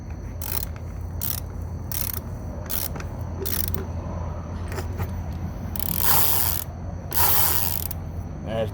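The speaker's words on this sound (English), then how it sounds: "I'm gonna put my wheel back on." A BMX bike wheel being refitted, with repeated ratcheting clicks of the freewheel hub in short bursts, some brief hissing sweeps, and close mechanical handling throughout, no talking.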